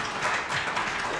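An audience at an evening conversation event gives a brief burst of applause, a dense wash of clapping heard for just over a second.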